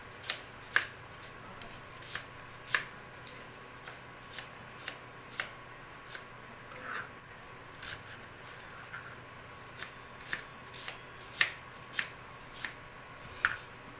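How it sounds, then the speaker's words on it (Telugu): A knife slices an onion into thin pieces on a cutting board for a potato curry, giving a steady series of crisp, close chops at a regular rhythm with no talking. "ఆనియన్ ఉల్లిగడ్డ అయితే ఇలా సన్నగా ముక్కలుగా అయితే కట్ చేసుకోవాలి"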